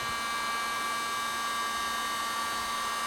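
Hot-air welding along a seam of a teak deck panel, a steady broadband hiss like a blower held close, constant and unbroken with a faint hum underneath.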